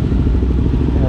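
A KTM 990 motorcycle engine rumbles loudly up close in a brief, steady, throbbing burst, dense and low with no talk over it.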